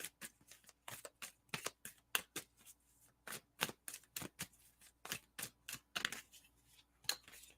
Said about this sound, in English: There's my sloppy shuffle for today